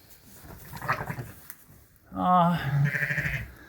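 Sheep and lambs bleat nearby, a fainter call first and then a loud, wavering bleat sequence, with someone speaking in between.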